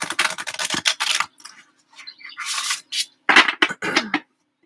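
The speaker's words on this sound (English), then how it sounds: "they are not so stiff that I cannot shuffle them this way" A deck of oracle cards being shuffled and bridged, giving bursts of crisp riffling flutters separated by brief pauses, close and fairly loud with no talk.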